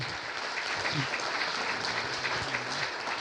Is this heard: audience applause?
yes